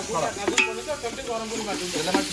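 Spices frying in plenty of oil for biryani, a soft crackling sizzle with intermittent stirring clatters close by and no talking.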